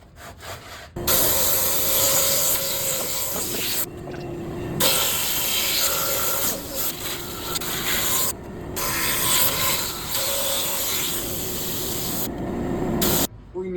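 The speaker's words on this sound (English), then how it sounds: "So, back to the drum sander." A drum sander works wood for a ukulele build, producing several long, loud grinding and rasping passes separated by short quiet gaps.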